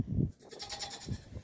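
Sheep in a plain sheep shed give two short, fairly quiet bleats, one near the start and one near the end, with a brief lull between.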